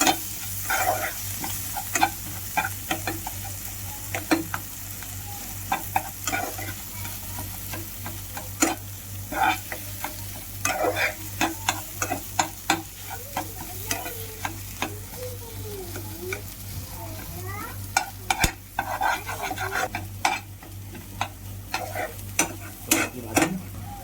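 A raw banana vada mixture with coriander and salt is stirred in a pan, with frequent scraping strokes and clicks over a low sizzle and a steady hum beneath.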